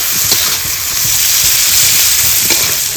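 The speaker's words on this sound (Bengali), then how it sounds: "ভালো করে পেঁয়াজটাকে ভাজতে হবে।" Chopped onions with crushed cardamom fry in hot oil until browned, a steady close sizzle with soft stirring scrapes running throughout.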